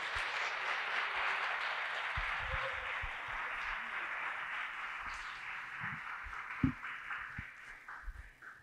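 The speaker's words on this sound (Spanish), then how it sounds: "Recibamos con un fuerte aplauso a nuestro invitado del día de hoy" Applause from an audience welcoming a guest speaker at a talk, a soft continuous patter of clapping somewhat distant, with a few louder nearby claps and thumps.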